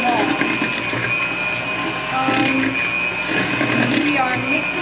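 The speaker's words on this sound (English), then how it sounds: "We are mixing it, and you gotta make sure that you don't stop mixing until it's kind of creamy" An electric mixer whirs steadily while beating batter in a high-sided bowl, a continuous motor whine with a fixed tonal hum, and a person talks over it throughout.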